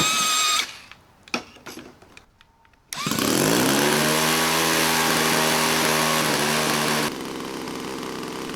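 A small glow or gas engine on a Cessna C-188 Agwagon model plane starts with a few sputters, then runs up to a loud, steady buzzing drone during a smoke-system test, dropping to a lower throttle near the end.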